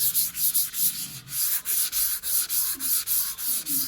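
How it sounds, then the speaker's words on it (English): A car body panel block sanded by hand with 180-grit sandpaper, a steady rhythmic scrubbing of back-and-forth strokes about three per second, close and clear with no talk. "all I'm doing is getting the 180 sand scratches out of it"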